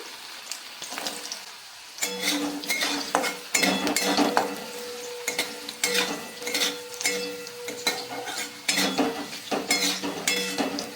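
Carrots and beans go into a hot pan of upma vegetables, bringing a burst of sizzling, then a steady fry with repeated scraping and clinking of a spatula against the metal pan.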